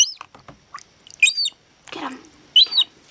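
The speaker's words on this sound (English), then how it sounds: "Oh yeah, you're turning into a grown-up seagull." A young seagull gives several short, high, squeaky calls in bursts, close and fairly loud, with quieter chirps and rustling between them.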